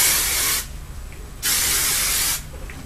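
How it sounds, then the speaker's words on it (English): Big Sexy hairspray misted over styled soft curls in two bursts, each a close, steady hiss lasting just under a second, separated by a short quiet gap. "I'm just going to take my Big Sexy hairspray again and just lightly do like a mist over it."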